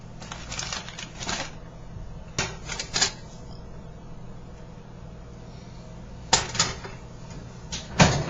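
An oven door opens after a low-carb lasagna has baked about 30 minutes; a few clunks and rattles stand out against a quiet kitchen hum, with no talking.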